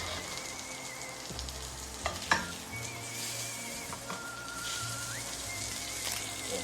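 Garlic sizzles steadily in a hot pan while a utensil stirs and scrapes it around, the frying hiss continuous with a few sharper knocks, close and fairly loud, with no talking.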